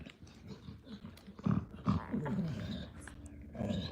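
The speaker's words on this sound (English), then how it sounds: "And you see it, heavy panting." A Boerboel in labour pants heavily and rapidly, close and fairly quiet, with rough breathy bursts and soft grunts over low background noise.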